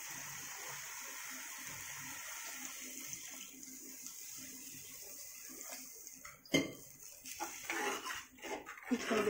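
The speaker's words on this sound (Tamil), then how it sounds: "கொஞ்சம் தண்ணி ஊற்றிக்கலாம்." Water is poured into a pan of wilted spinach being cooked for a village-style lentil and greens dish, a steady splashing hiss that grows louder and more agitated toward the end.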